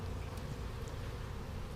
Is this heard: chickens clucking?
no